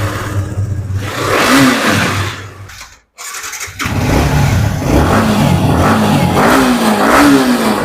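A KTM Duke 250 BS6 motorcycle in a used-bike showroom starts and revs loudly up close, with a brief cut-out before the engine picks up again and keeps revving in rising and falling pulls.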